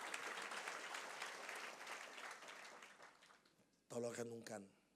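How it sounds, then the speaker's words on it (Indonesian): A church congregation claps steadily and loudly for several seconds, the applause thinning out before a brief burst of voice near the end. "Tepuk tangannya paling meriah buat Allah kita."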